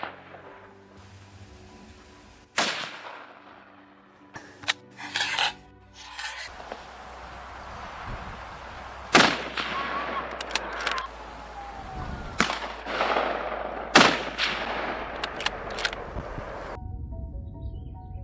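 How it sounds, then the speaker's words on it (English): Gunfire in open country during a Texas wild boar hunt: several sharp shots ring out at irregular intervals, each trailing off into a brief echo over quiet outdoor background noise. "The gunshot echoed through the valley"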